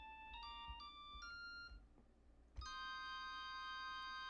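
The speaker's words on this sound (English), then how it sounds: "I just added a organ real quick" Sustained keyboard chords with a bright, bell-like organ tone ring out in stepped phrases, pause briefly, then a new loud chord holds steadily to the end.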